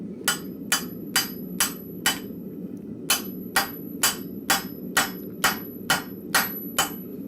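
Blacksmith striking steel with the rounding side of a hammer, about fourteen sharp ringing blows in a steady rhythm, close and distinct over low shop background noise, with no talking.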